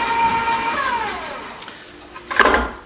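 An electric hand mixer whirs steadily as vanilla is beaten into cookie batter, its motor pitch sliding lower midway, then a brief louder clatter near the end.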